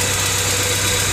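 1995 Honda Civic engine idling with a ticking fault, a loud, steady close-up drone with a continuous mechanical buzz and no break across the short stretch.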